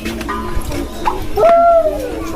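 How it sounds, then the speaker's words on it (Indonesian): Pigeons coo in the bird area of the Banjarmasin zoo: a few soft, drawn-out cooing calls stand over a steady outdoor background, with no talking. "Nah, itu burung dara lah. Nah, ada burung dara."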